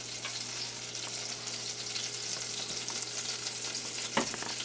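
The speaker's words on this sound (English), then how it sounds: "I got that half a stick of butter melting" Half a stick of butter melts in a pan for caramel filling, sizzling and crackling steadily with a continuous frying hiss, close and moderately quiet, with a sharper clink near the end.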